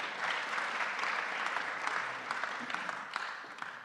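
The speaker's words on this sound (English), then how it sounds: "No, I think that deserves a round of applause" Audience applause fills a conference hall, a steady crowd clapping with dense, even patter from start to finish at moderate loudness.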